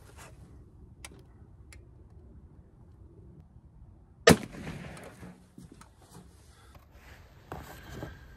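Single sharp rifle shot of a .223 with a 55 grain Sierra Game King bullet fired into ballistic gel outdoors, a sudden crack mid-clip after quiet ticking, then a brief fading rumble.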